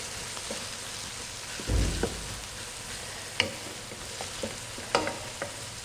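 Peppers sizzling in oil in a frying pan, a steady crackling hiss with occasional sharper pops and a scrape of stirring, close and moderately loud with no talk.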